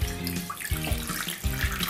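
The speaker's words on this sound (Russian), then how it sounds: "Выливаем воду" Water poured from a vessel into a container for a vinegar fruit-washing mix, a close, continuous gurgling splash with uneven pulses.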